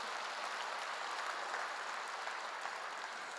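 A church congregation applauding during a sermon, a soft, continuous patter of many hands blending into an even wash, fairly distant and quiet with no voices over it.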